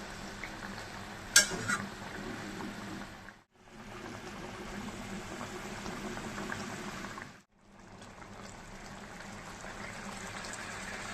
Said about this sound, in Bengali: ঝোলটা ফুটে গেছে, এখন মাছটা দিয়ে দিচ্ছি। এখন একটু নাড়িয়ে দিচ্ছি।